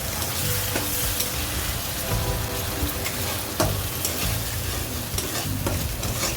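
Mustard seeds and dried red chillies tempering in hot oil crackle and sizzle steadily and loudly, with scattered sharp pops over a dense frying hiss and no voices.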